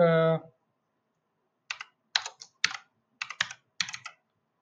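A computer keyboard is typed on in bursts of crisp clicking keystrokes, close and clear, in several short groups. A brief voice sound comes just before.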